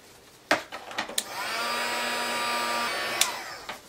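An embossing heat tool blows hot air in a steady whir lasting about two seconds, bracketed by a few sharp clicks and taps at close range.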